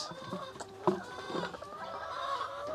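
Backyard laying hens cluck softly in a small coop, a few short calls and a brief louder squawk over a steady low murmur of the flock, fairly close by.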